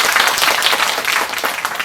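Audience applause at a Korean community project results-sharing event, a steady dense wash of clapping from a crowd, fairly loud and continuous throughout with no talking.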